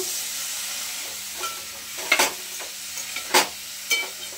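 Ground masala paste is stirred into a val bean, brinjal and potato curry in a hot pan, a gentle sizzle broken by several sharp spoon scrapes and clatters in an uneven rhythm.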